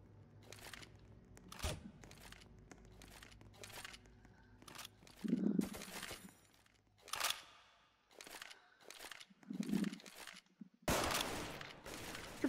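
A heavy machine gun fires during a video game match. Scattered bursts of gunfire come at irregular intervals, fairly faint and distant-sounding, with quieter game noise between them.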